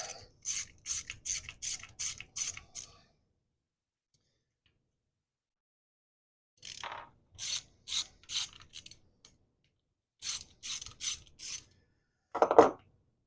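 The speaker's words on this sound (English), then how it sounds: "let's take our bolts off here" A ratchet clicks in quick rhythmic bursts while loosening bolts on the cap of a Gravely rotary plow gearbox. Three separate runs of sharp, close clicks are split by pauses of near silence, and a short rough rub comes at the very end.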